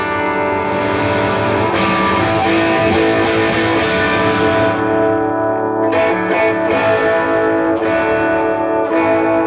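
An electric guitar plays sustained chords through the gritty distortion of a Mooer Red Truck pedal, with a few sharp strums ringing out loud and close.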